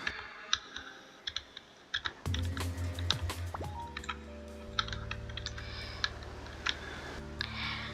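Scattered computer mouse clicks, sharp and close, spaced irregularly over a game's music and sound effects, with no talking.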